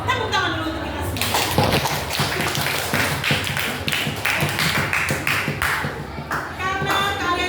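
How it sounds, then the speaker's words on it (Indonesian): A classroom of children clapping their hands together, a dense, continuous patter of many claps with sharp taps mixed in, lasting several seconds while voices chatter underneath. "Tepuk tangan dulu untuk kita semua."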